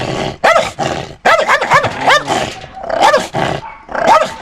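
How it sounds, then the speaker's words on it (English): An old blind dog with glaucoma barks and growls repeatedly, loud and close, in short bursts separated by brief pauses, each bark harsh with a rough growling edge. "And that's the dog over there."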